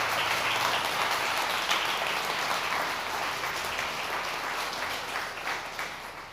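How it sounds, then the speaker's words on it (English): A large audience applauds the organizing team at Kennesaw State University's 2024 PechaKucha Research Night, dense steady clapping filling the room and slowly tapering toward the end. "can we please give them a round of applause?"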